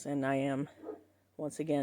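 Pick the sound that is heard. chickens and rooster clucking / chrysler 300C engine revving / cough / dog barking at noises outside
dog barking at noises outside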